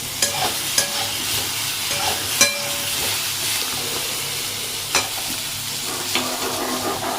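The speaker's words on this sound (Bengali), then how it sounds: "এই যে পটল ভাজা হচ্ছে" Pointed gourd (potol) sizzles as it fries in a pan at home, with a steady crackle broken by several sharp scrapes and knocks of a spatula stirring it.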